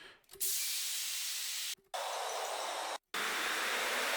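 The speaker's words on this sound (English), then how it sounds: "some effects, downbeats. I mean, sweep down effects, white noise." Bursts of loud white noise that sweep downward, three blasts with brief silent gaps between them, no voices.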